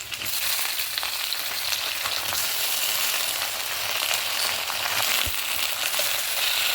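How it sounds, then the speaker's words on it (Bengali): Steady, loud sizzling of Malabar spinach frying in a hot pan with fish head, a continuous crackling hiss with occasional stirring scrapes, no voices. "এবার আমি এর মধ্যে শাকগুলো কেটে রেখেছি, এগুলো আমি দিয়ে দেবো"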